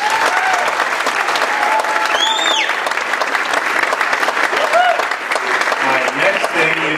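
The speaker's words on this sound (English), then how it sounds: "So, round of applause for our DMC people." Steady audience applause at a high school choir and band concert, many hands clapping at once, with a few faint whistles and voices mixed into the crowd noise.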